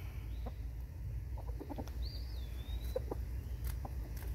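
Homestead chickens cluck in short, scattered bursts at moderate distance over a steady low background hum, with a faint whistling bird call drifting through the middle.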